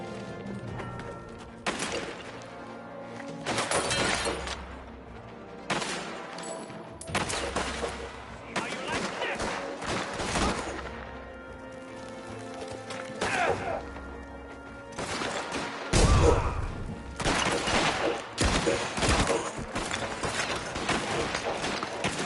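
Gunfire rattles through a Mafia video game shootout, with dense bursts of shots and crashes in irregular clusters, loud and close, broken by brief gaps as the firefight continues.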